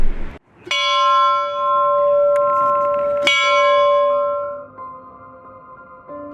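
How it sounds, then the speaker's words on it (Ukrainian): A large memorial church bell tolls twice, each deep ringing stroke left to hum and fade slowly in a quiet space. "прозвучали удари дзвону"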